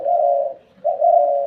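Two long, mellow dove coos sound close by, one after another with a brief gap between them and nothing else in the background.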